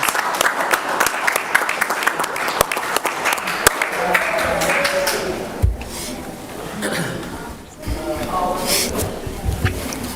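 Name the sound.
audience applause for the coaches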